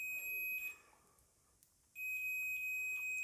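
A multimeter set to continuity mode buzzes with a steady, piercing electronic tone, sounding briefly, stopping for about a second, then sounding again during mobile phone component testing.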